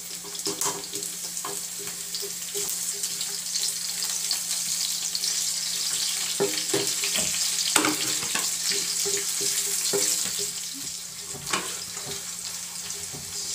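Onion sautés in a pan for pinakbet with malunggay, a continuous close sizzle with intermittent clinks and scrapes of stirring.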